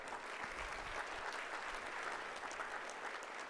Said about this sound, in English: Paul Burns, let's give him a round of applause.